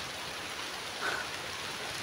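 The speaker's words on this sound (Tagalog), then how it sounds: "Umuulan pa rin dito mga idol, no?" Rain falls steadily on a mountainside, a constant even hiss with no distinct drops or voices.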